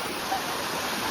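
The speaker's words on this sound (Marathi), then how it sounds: "जंगलातून असं धबधबो येता छोटसो आणि मस्तपैकी या ओढ्याक मिळता" A small forest waterfall at Amboli in the Konkan spills into a stream, giving a constant, close rushing roar of water with no breaks or voices.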